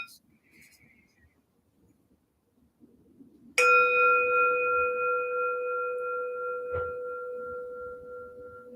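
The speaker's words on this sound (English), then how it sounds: "So I'll end with a bell." A single meditation bell is struck after a quiet, near-silent pause and rings out clear and sustained, slowly fading over several seconds, with a faint soft knock partway through the decay.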